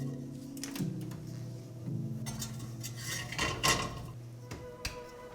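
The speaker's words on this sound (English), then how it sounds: "So it's time to put our ceramic stone into the oven." A ceramic baking stone goes into a hot oven with a series of hard clunks and knocks against the metal racks over a low steady hum, the heaviest thuds bunched in the middle.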